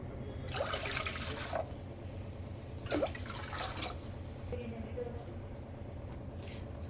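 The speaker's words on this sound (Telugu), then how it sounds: "అర గ్లాస్ రైస్కి త్రీ గ్లాసెస్ వాటర్ వేసుకున్నాను" Water poured into a cooking pot for a jaggery rice payasam, two splashy bursts of pouring, each lasting about a second, close by over a low steady hum.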